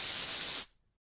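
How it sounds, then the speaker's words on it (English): A spray can lets out one steady, loud hissing burst for about half a second, then cuts off abruptly into silence. "Guys, get the spray can."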